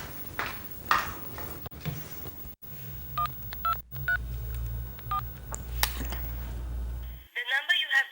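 Someone taps out a string of telephone keypad tones, short evenly spaced beeps over a low indoor hum, after some earlier rustling and handling noises. A brief recorded voice follows at the end.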